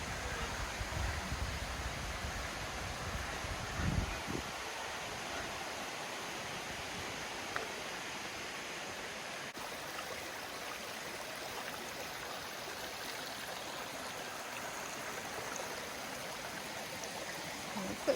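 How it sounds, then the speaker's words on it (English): A mountain stream along the Gahuti Mountain Trail in Georgia rushes in a steady, broad hiss, faint to moderate in level, with a brief rustle near the start and no talking. "You can already hear the water."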